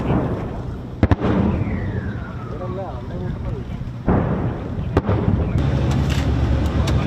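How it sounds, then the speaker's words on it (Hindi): Weapons and tank guns fire during a large army field exercise, with a few sharp distant blasts over a rumbling outdoor background, and a faint whistle partway through. "जहाँ से फायर हुआ जा रहा है।"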